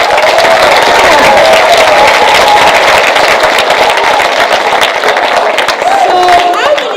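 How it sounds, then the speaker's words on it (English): A community celebration audience gives a sustained round of applause for local officials; loud, dense clapping with scattered cheers and whistles, and voices mixed in beneath the clapping. "Y'all stand up and look around and give them a round of applause."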